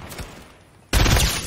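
Gunfire in a shooter video game: a quiet stretch of faint shots, then a sudden loud burst of rapid fire that sustains to the end.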